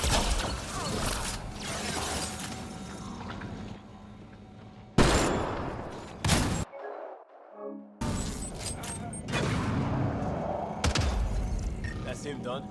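Rapid gunfire rattles through a Mass Effect Andromeda combat scene, with bursts of shots and mechanical clatter, a short dropout of near silence in the middle, and voices speaking between the volleys.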